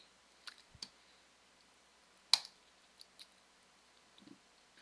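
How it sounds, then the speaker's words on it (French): A computer mouse gives a few sharp, isolated clicks at irregular intervals, close and quiet against near silence with no talking. "on clique"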